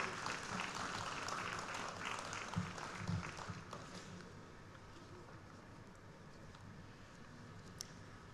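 An audience at a formal ceremony gives a round of applause, dense clapping that starts fairly loud and gradually thins and fades to a softer patter.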